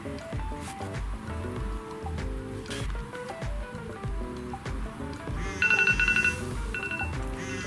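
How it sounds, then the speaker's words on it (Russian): A Siemens A50 mobile phone sounds its alarm among other phones, a short electronic ringing tone that comes through over an ongoing bed of music. "Сработал только Siemens A50."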